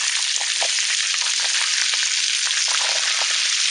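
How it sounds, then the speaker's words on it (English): A scoop of butter melting in a wok on high heat sizzles with a dense, even hiss and small crackles, close and constant throughout with no voices. "turn on the wok to high, and let the butter melt down"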